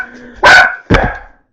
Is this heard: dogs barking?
yes